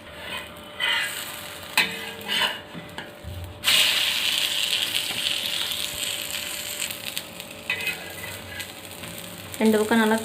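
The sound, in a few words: beaten egg frying on bread in a pan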